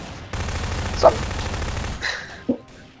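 Gunfire in the Garry's Mod video game, a sustained rapid burst of automatic shots followed by a couple of sharper single reports, loud and close.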